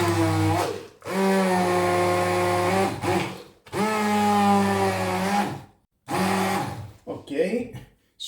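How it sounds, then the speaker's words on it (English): A Silvercrest SSMS 600 E5 hand blender whirs in three close, loud bursts separated by short pauses, blending orange, apple and banana, its motor pitch sagging slightly as it works. "Just help the blender to make better job."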